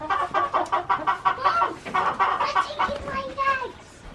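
Backyard homestead chickens cluck near their nest boxes in rapid, close, fairly loud bursts, with a few rising squawks toward the end and a voice faintly mixed in.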